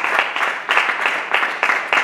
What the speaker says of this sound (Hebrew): מגיע לו כפיים לצדיק הזה